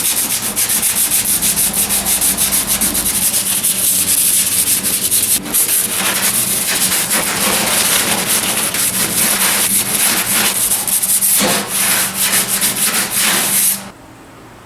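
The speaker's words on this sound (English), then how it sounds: "Now I'm just going to sand it a little bit." Steady abrasive sanding of Bondo body filler over rust repair on a truck body, a continuous close rasping scrub that runs unbroken for about fourteen seconds and then cuts off, leaving a quieter background.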